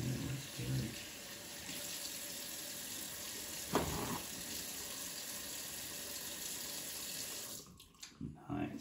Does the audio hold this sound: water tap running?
yes